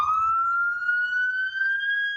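A police car siren wails steadily, its tone rising slowly, loud and fairly close, with faint rumbling underneath and no talking, near street homeless encampments in California.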